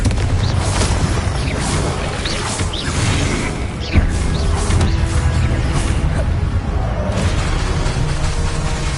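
A Confringo explosive spell goes off repeatedly in Hogwarts Legacy, loud booming blasts and crashing impacts layered with whooshes in a dense, continuous stretch of game combat.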